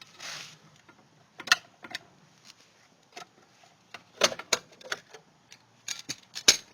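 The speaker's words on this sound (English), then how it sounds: "and pop off the dust cap" A tool's hook end pries at the groove of a wheel dust cap on a Ford Ranger, giving sharp metallic clicks and snaps, with a loud pop near the middle and a few more clacks toward the end.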